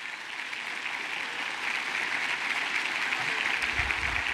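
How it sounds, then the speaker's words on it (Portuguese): A church congregation claps steadily in a dense, sustained round of applause that grows slightly louder midway and carries on to the end, with faint voices underneath. "Dê uma salva de palmas ao Senhor."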